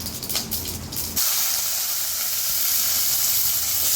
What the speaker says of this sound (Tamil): கடுகு பொரிச்சிட்ருக்கு.